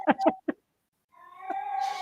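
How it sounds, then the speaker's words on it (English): A pet cat named Tiger meows once in a drawn-out, rising tone after a short pause, following a few brief bursts of a person talking nearby. "See my cat say yes."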